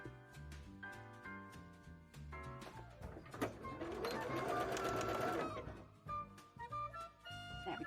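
A sewing machine stitches through gathered petticoat layers in bursts, its rapid mechanical whirr speeding and pausing amid background music, with clattering handling noises at the start and end.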